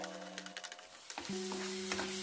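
Paneer butter masala gravy is stirred in a pan over the heat, a spoon scraping and tapping in a short series of close strokes over a soft bubbling sizzle, with a steady tone in the background.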